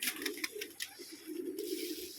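Pigeons coo in low, throaty, repeated phrases, soft and close, with a few brighter flutters or scrapes mixed in and no talking.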